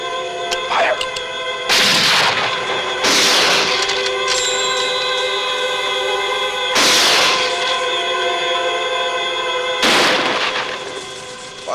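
Four loud, sharp rifle shots fired at a target ring out at irregular intervals, each with a long rolling tail, over a steady tonal hum and no talk.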